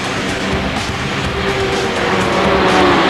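Suzuki GSX-R 1100 racing motorcycles in the 1986 Suzuki GSX-R Cup 1100 final: a dense, loud engine roar that rises slightly as the bikes drive past on the track, continuous and without voices.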